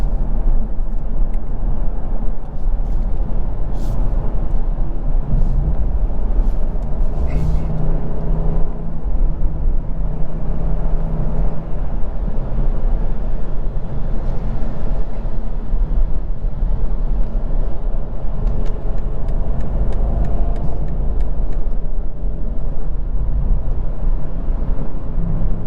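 A 2023 BMW M850i convertible's V8 engine rumbles steadily inside a tunnel, a loud, sustained low drone with reverberant whirring and a few brief sharp pops near the start.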